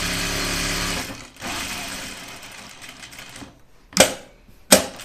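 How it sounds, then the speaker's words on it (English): A sewing machine stitches a seam around a shirt cuff. It runs in a steady buzzing whir that fades off, followed by a quiet pause and then two short sharp clicks or thumps near the end. "So I'm just gonna sew around the three sides of my cuff here at a half inch seam."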